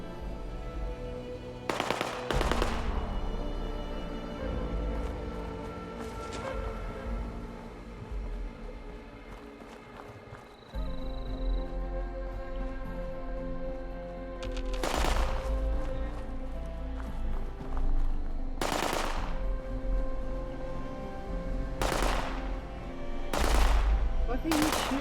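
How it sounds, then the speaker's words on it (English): Video game gunfire, with repeated sharp shots and short bursts spread over a steady game soundscape, some loud, others lower in the mix. "Why are you shooting it?"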